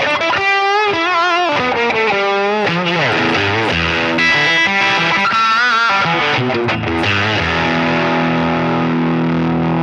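Heavily distorted electric guitar played through a Line 6 Pod Express amp modeler, with loud chords and bending note runs that shift in a steady rhythm, then a long held chord that rings out. No voices are heard.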